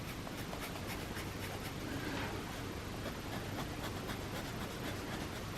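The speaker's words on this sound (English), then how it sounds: "You can hear the crinkle in the paper." Paper crinkling and scratching of colouring pencils on thick colouring book pages, a steady close scratchy texture with soft crackles throughout and no talk.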